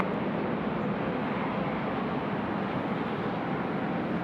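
A Vietnam Airlines airliner at Sydney Airport gives a steady broadband jet roar, loud and continuous from a moderate distance, with no voices over it.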